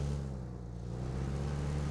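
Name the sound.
car engine in the video game PUBG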